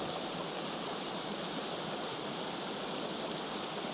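A waterfall gives a dense, unbroken roar of rushing water, loud and steady across the whole stretch with no other sounds.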